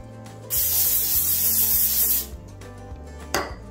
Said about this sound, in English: I'm gonna spray it with our nonstick spray, our vegetable oil.